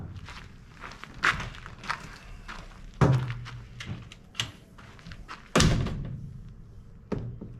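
A camper door on a build in progress is swung and shut several times, giving sharp close thunks and knocks spread over a few seconds, with scuffing and handling noises between them and no talking.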